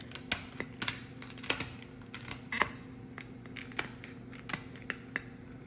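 Kitchen scissors snip down the center of a lobster tail shell in a series of crisp, close clicks and crunches, irregular and fairly quiet over a low steady hum.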